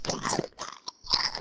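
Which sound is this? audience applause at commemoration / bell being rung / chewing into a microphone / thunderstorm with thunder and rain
chewing into a microphone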